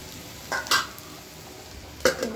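Food frying uncovered in a pan, cooked ahead of time, with a few short scraping stirs and clinks of a utensil near 0.5, 0.7 and 2.1 seconds over a steady low sizzle.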